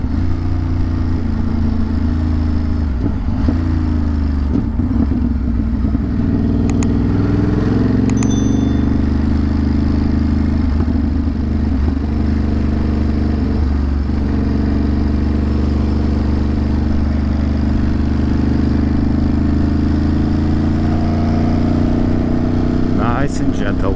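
A Ducati motorcycle rides gently on a mountain road, its steady mid-pitched engine drone continuous and close throughout, with a brief bell-like ding partway through.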